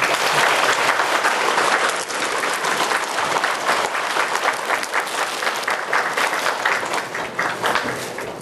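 An audience at a Buddhist college entrance ceremony at Jeongtosa temple in Ulsan claps in sustained, dense applause that fills the whole stretch, with no talking.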